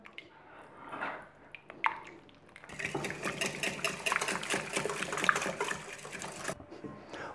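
A spoon stirs Worcestershire sauce into the dressing for a red herring salad made with matjes fillets, giving a close, wet swirling and scraping that runs steadily for several seconds.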